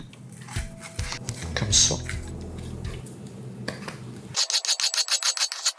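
A knife cuts through half a bell pepper on a cutting board, with scraping and rubbing at first, then a quick even run of about ten crisp chops, all close up under brief speech.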